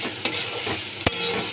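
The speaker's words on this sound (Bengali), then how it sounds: "আলুগুলো আমি লাল লাল করে ভেজে নিচ্ছি।" Potatoes fry with turmeric and salt in hot oil, a steady close sizzle broken by two sharp clicks of a utensil stirring against the pan.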